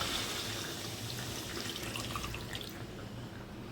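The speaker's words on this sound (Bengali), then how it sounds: "এরপর এর মধ্যে আমি জল অ্যাড করে দেবো।" Water poured into hot oil in a pan of frying fish, giving a loud, steady hissing sizzle that fills the whole stretch and eases off slightly toward the end.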